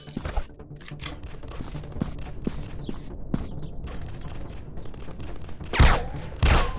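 Gunfire from a PUBG-style first-person shooter game rattles in scattered bursts and single shots, fairly close and loud, with a couple of heavier impacts near the end and no talk.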